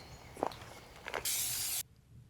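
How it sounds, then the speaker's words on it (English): Green spray paint hisses from an aerosol can onto a barrel outdoors during hunting-ground preparation: one steady, close burst of about half a second after a few soft rustles and footsteps. "I will also spray the barrel in a green color so that it blends a little bit more into the rest of the area"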